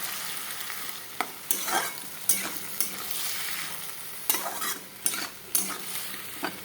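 Goat meat masala with tomato frying in a wok, with a steady close sizzle broken by irregular scraping stirs of a spatula against the pan.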